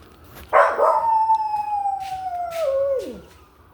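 A dog lets out a long, sustained howl that holds steady and then drops off at the end, with faint sirens wailing in the background.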